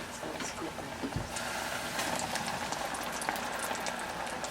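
Walleye fish frying in hot oil in a small home deep fryer, a steady close bubbling and crackling sizzle that runs continuously throughout.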